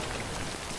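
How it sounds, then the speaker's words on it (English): Steady rain pours down in Death Stranding, a dense, even hiss of drops drumming on surfaces throughout a brief moment. "This has been like non-stop rain anytime you're not near the base"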